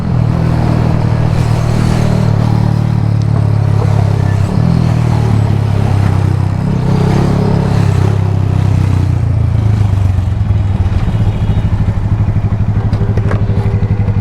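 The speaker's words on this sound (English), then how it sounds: "Oh, big bike." A big motorcycle rumbles past on a road, with a loud, deep engine note that swells and eases over several seconds and a steady throb beneath it.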